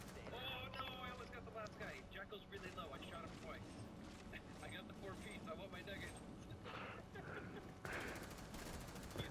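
Rapid gunshots crackle through a video game match, dense repeated pops in a busy mix with players talking over them throughout.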